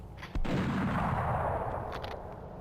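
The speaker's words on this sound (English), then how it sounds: "And they're firing these little cannons, right?" Artillery cannons fire from a prison ringed by Tau gun emplacements in the Fire Warrior video game, one sharp, loud boom setting off a sustained rumbling roar that slowly fades, with no voices over it.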